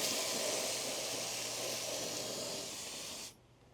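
A can of wasp spray hisses in one steady, loud burst aimed into a wasp nest in a truck's grill, cutting off abruptly after about three seconds.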